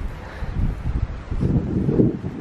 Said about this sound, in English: A little windy, eh?